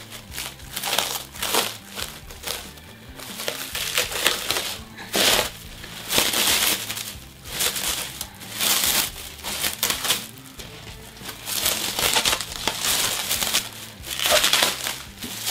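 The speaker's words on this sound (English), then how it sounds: "This is just the standard stuff they use to wrap pallets in." Plastic pallet wrap is pulled and crumpled off a Muse Full Spectrum laser cutter, with loud, close crinkling and crunching in repeated bursts throughout.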